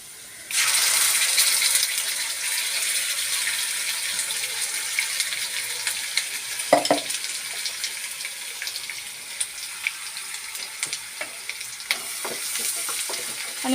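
Masala frying with garlic in a pan for Kokan-style dry vakati, starting with a sudden loud sizzle that settles into a steady hiss, with scraping and stirring knocks near the middle and later.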